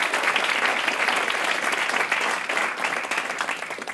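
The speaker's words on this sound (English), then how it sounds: "So please applaud John Duffy and Daniel." Sustained audience applause at an evening panel discussion as the speakers are introduced, a broad, even roar of many hands clapping at once that holds steady for several seconds with no talk over it.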